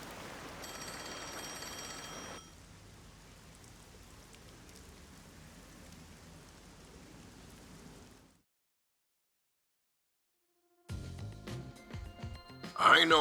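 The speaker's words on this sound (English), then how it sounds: "Oh, the phone." A telephone ringing in the video game Master Detective Archives: Rain Code, a repeated electronic ring over steady rain for the first couple of seconds, then rain alone, a silent gap, and game sounds and a voice at the end.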